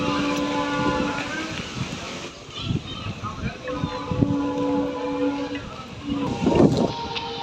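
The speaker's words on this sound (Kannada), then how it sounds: "ಸೊ ರೈಲ್ವೆ ಹೊಂಟಿತ್ತು, ಅದಕ್ಕೆ ಒಂದು ವಿಡಿಯೋ ಮಾಡಿ ಹಾಕಿದೆ ನಿಮಗೆ ನೋಡ್ರಿ ಅಂತಂದು." A train rolls past at a small village railway station, a steady close rumble layered with sustained droning engine tones that hold for the whole stretch, with a louder swell near the end and faint voices mixed in.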